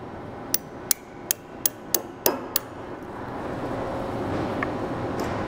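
Seven sharp, evenly spaced metallic taps drive dowel pins into a rotary indexing table, then a low steady hum continues. No one speaks.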